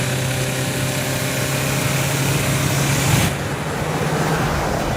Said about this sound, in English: listen to that iForce Max